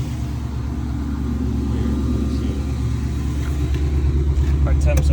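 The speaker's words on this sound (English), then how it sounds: "I turned the car on." A car engine idles steadily after being started, a continuous low rumble with a faint mid-range hum holding throughout, no revving, with the dual radiator fans still off and the coolant cold.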